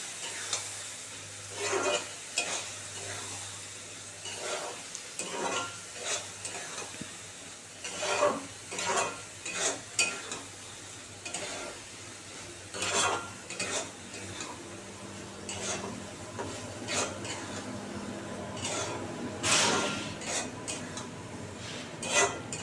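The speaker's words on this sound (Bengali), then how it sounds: "সেটাকে ভালো করে আবার কষিয়ে নিই" A spatula stirs spice paste frying in a pan for white ridge gourd with poppy seed, giving soft sizzling under repeated scraping and clinking strokes against the metal, in irregular bursts.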